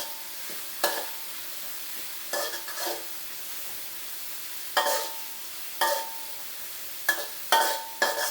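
Chili and garlic stir-fried in a wok for prawn red curry, with a steady sizzle broken by repeated sharp scraping strokes of the spatula, loud and close, with no talking.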